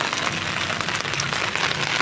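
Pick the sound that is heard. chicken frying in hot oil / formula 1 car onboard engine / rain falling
rain falling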